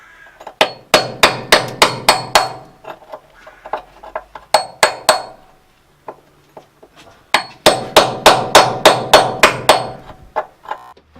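A hammer strikes rusty metal on a Skyline R33 strut top, trying to punch through, in loud bursts of rapid ringing blows separated by brief pauses.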